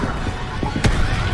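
A Bombarda spell explosion in a Harry Potter–style video game, a single sharp burst landing mid-clip among soft muffled game thuds, loud and close.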